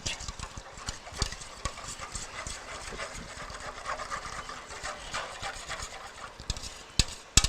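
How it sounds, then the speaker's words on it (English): A kitchen whisk beats rapidly against a bowl, producing a fast, continuous stream of close clicking and rattling with a few louder knocks near the end. "I will whisk it around."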